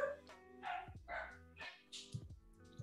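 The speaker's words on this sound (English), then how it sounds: "I'm glad that people are enjoying the dog barking." A dog barks repeatedly in the background, a series of four or five sharp yapping barks at an uneven rhythm, moderately distant and fairly faint.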